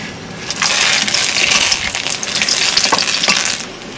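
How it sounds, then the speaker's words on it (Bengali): Whole spices such as cloves, cinnamon, cardamom, bay leaf and dried red chilli drop into hot oil for a garlic mutton dish, setting off a loud continuous sizzle with a few clinks and stirring sounds, no talk. "তেলের উপরে কটা গোটা মশলা দিয়ে দেবো, লং, দারচিনি, এলাচ, তেজপাতা, শুকনো লঙ্কা।"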